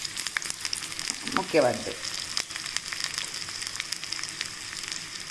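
Onions frying in a small amount of oil in a pan for dal makhani, a steady soft sizzle with a brief louder burst of stirring near the start, and a short spoken word.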